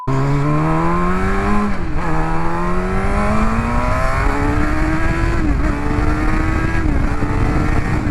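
A motorcycle running without its exhaust baffle revs loud and close, its engine note climbing steadily in repeated rising pulls with brief dips between them, a harsh raw roar throughout and no talk.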